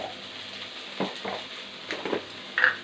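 Okra (vendakkai) sautés in a pan with a pinch of garam masala, giving a faint, steady sizzle broken by a few soft stirring scrapes and light clinks of a spoon against the pan, with no talking.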